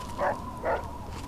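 Dog in the Fallout 3 video game giving two short, moderately faint barks spaced about half a second apart over a low ambient background hum.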